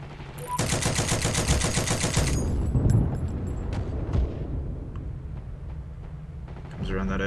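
Sustained bursts from a Maxim Tokarev MT machine gun in a Heroes and Generals battle, a loud rapid rattle lasting a couple of seconds, then scattered distant shots and rumble, with voices talking in the background.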